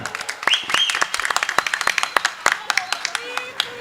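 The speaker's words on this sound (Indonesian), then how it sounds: "Tepuk tangan." An audience at a Maulid Nabi religious gathering claps in scattered, uneven bursts, mixed with shouts and voices from the crowd.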